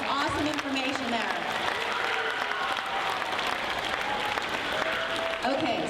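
Steady, loud applause rolls through a school assembly crowd at Penn Trafford, with some voices and a few whoops rising over the continuous clapping.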